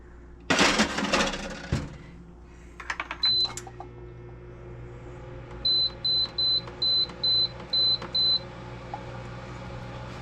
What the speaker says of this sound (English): I am going to put this in air fryer and put it on 400 degrees.